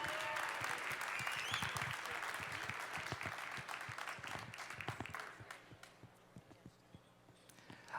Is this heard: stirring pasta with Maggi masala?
no